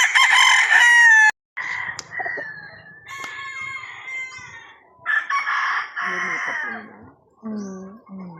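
Chickens and a rooster on a breeding farm, several loud crows rising and falling one after another with short gaps, clucking between them and a faint voice at times.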